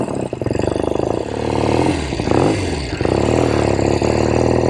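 A 1970 Royal Enfield Interceptor 750 Mk II motorcycle pulling away under power, its engine loud and close with a throbbing rev, a brief dip around a gear change, then steady pulling again.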